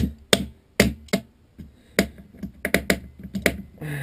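Sharp metallic taps of a screwdriver striking an airsoft replica, a dozen or so irregular clicks and knocks close up, some in quick pairs, with brief gaps between.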